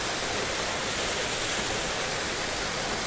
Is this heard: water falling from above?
yes